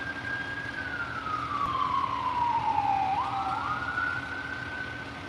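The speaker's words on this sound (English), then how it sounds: "Oh, you hear the siren?" A single siren tone sliding slowly down and then back up, moderately distant, over a steady low rumble of traffic.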